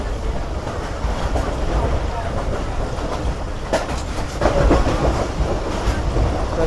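An Islamabad Express train rolls toward a railway station, its steady loud rumble and rattle of carriages filling the space, with rhythmic clicking of wheels over rail joints growing slightly heavier toward the end.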